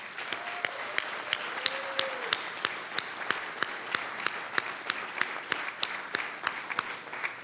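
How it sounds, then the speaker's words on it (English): Sustained audience applause at a Grand Convocation banquet, dense steady clapping with a few sharper individual claps, with no one speaking over it. "please give a big round of applause to my team"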